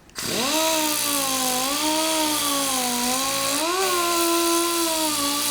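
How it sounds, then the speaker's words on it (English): A pneumatic rotary sander with an abrasive disc grinds down high spots on a 6-inch metal vise. It gives a loud, continuous whine that rises and shifts pitch slightly as it works, with no talk. "what we're going to use is an abrasive disc on our pneumatic rotary sander"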